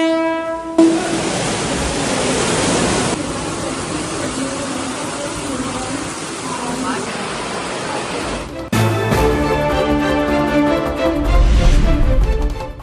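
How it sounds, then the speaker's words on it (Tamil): Suburban trains in Mumbai crawl through rainwater flooding the tracks, a steady loud rumble with wheel and rail noise, then a train horn sounds clearly near the end. "தண்டவாளத்தில் தேங்கியுள்ள மழை நீரில் ஊர்ந்து செல்லும் புறநகர் ரயில்கள்."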